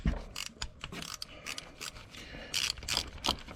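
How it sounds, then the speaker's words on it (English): A ratchet wrench works a bolt loose on an engine's thermostat housing, clicking in quick, close, uneven bursts with metallic scraping between them. "it's not breaking, it's just a bolt coming loose"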